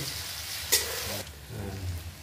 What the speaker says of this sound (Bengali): এবারে এই সমস্তগুলোকে একসাথে হালকা একটু ভেজে লাল করে নেব।